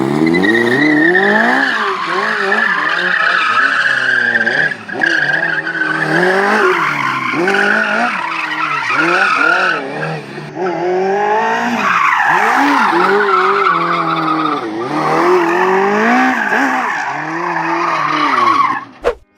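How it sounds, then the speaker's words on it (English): A Fiat 126p with a swapped-in Honda motorcycle engine revs high and hard while its tires squeal continuously through long slides across a parking lot, loud and close, for the whole stretch with no talk. "here is a Honda bike swapped Fiat 126p sliding over a parking lot"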